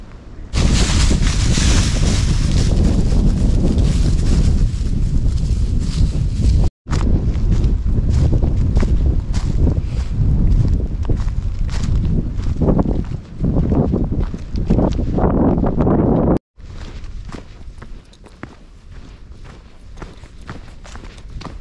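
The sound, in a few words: wind blowing at a trail campsite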